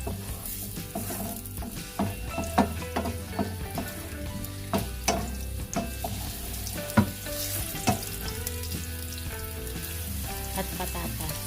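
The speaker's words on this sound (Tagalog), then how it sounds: "magpainit ng mantika sa kawali at igisa ang carrots" Carrots sautéing in hot oil in a frying pan for menudo, a continuous close sizzle punctuated by irregular scrapes and clicks of stirring against the pan.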